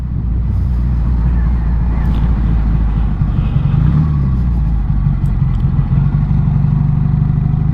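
A vintage Matchless G12 CSR, a classic British twin-cylinder motorcycle, runs steadily close by, its low, even rumble holding at a constant level throughout without any clear revving.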